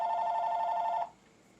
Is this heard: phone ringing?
yes